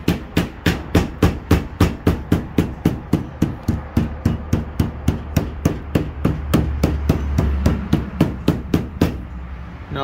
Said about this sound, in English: I take my rubber hammer